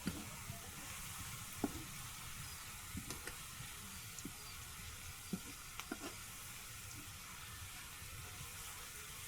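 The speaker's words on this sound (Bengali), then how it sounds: "পেঁয়াজ ভেজে লাল লাল করে নেওয়া হচ্ছে" Onions frying in a pan over an outdoor clay stove beside a wetland, a soft, continuous sizzle with occasional clicks of stirring, quiet and steady throughout.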